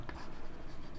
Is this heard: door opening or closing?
no